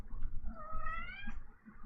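A house cat lets out one drawn-out, rising meow, fairly faint and close by, over low background rumble with no talking.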